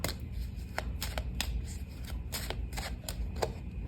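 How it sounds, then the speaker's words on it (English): Lenormand cards are shuffled and drawn from a deck, a close run of quick papery riffles and flicks in an irregular burst, with no voice over it. "I'd like to pull a card on that."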